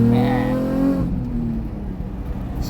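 A car with a crushed quarter panel and ripped subframe accelerates on a test drive, its engine note rising in a revving whine before settling into a steady road rumble and tire noise.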